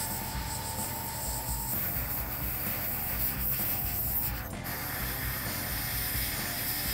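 An airbrush sprays red paint onto the gums of a Venom maquette, a steady continuous hiss held close for several seconds with a brief change partway through.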